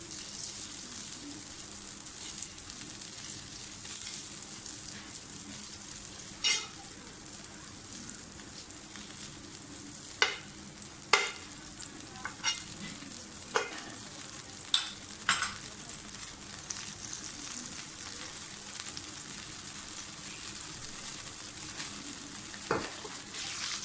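Butter frying in a pan for bread omelette toast, a steady low sizzle with a few sharp clicks and stirring taps scattered throughout, no talking.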